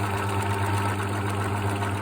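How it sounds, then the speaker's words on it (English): A home sewing machine runs steadily on a zigzag stitch while appliquéing fabric, a constant mechanical hum and whir with no pauses and no talking. "So if you've got a sewing machine, you're going to set it to zigzag."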